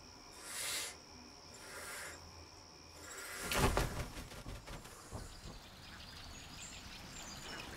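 A barn owl gives two raspy, hissing screeches in the wild near a clearing, followed by a loud thump and scattered rustling and knocking sounds.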